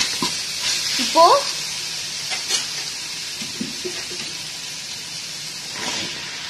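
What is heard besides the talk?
onions and tomatoes sautéing in a pan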